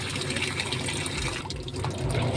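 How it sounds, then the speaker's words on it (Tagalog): Water runs steadily as a washing machine fills during a universal control board test, a continuous close rushing flow that briefly dips before resuming. "Kakarga ng tubig."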